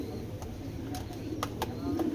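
Foreign racer pigeons coo softly and repeatedly at close range, mixed with sharp clicking taps and a voice talking over them.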